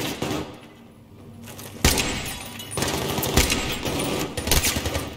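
Gunfire in the video game Battlefield 3 comes in rapid automatic bursts: a quieter opening, then loud, close volleys from about two seconds onward with sharp repeated cracks and a few heavier hits.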